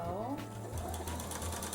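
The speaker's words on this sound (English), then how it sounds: "I sewed 2 seams, I skipped a row, and I'm going to sew 2 seams" Sewing machine stitching quilt seams for a nine patch, a close rapid mechanical whirring that runs steadily throughout, with a person talking over it.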